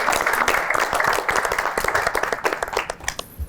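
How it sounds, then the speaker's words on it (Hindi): An audience applauds steadily on a reality game show, many hands clapping close and loud in a dense, continuous patter that thins slightly near the end. "थोड़ी इनकी मासूमियत और वज़ीर को धोखा देने में तालियां बजा दें"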